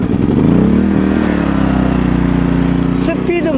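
A small portable generator with a recoil starter catches on the pull and settles into a steady, loud idle that runs close by, with speech over the engine.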